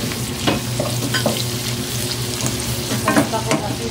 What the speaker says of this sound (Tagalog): Haluin lang po, ganyan. Ilagay natin ang ating shrimp paste.